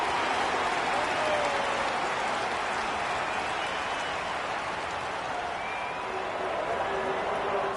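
Crowd noise at an Australian rules football match between the Geelong Cats in the video game AFL 26, a continuous roar of a large stadium audience, steady and broad, with faint commentary blended in.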